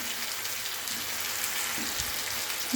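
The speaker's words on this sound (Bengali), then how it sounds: "এবার আমি এটা দিয়ে ভালো করে কষে নিচ্ছি" Cabbage and fish head sautéing with turmeric in a pan, giving a steady soft sizzle and crackle throughout, moderately quiet, with a few louder spits and no talking.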